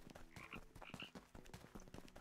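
A frog croaking in the Ikonei Island video game, rapid close repeated croaks in an uneven rhythm with no talking over them.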